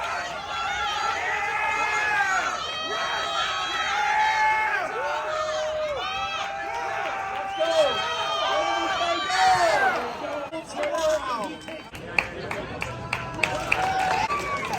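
Spectators cheering at the North American Mas-wrestling Championships in Calgary, Canada: a steady roar of many voices with rising shouts, loud and sustained, with commentary talk running through it.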